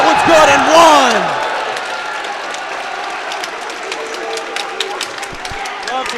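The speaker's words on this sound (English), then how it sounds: "Love to hear the crowd get hyped for such a young, exciting player in Archie." Crowd cheering and clapping at a high school varsity boys basketball game, Oratory Prep vs Rahway, rising over a commentator's voice with a whistle early, then settling into scattered claps and sneaker squeaks.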